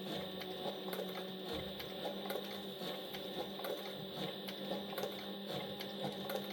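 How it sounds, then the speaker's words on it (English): A sewing machine stitches a premium leather belt with double bonded nylon thread, a steady, close mechanical whir with rapid needle ticking running unbroken throughout. "as I'm going, I'm looking behind my machine, checking the quality of the stitch"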